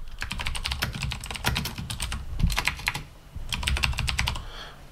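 Quick, uneven keystrokes on a computer keyboard as a comment is typed, close and clear, in several short runs with brief pauses between them.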